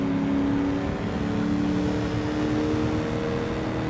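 A racing car in Gran Turismo 7 roars past with a steady, loud engine drone that holds a constant, even level throughout.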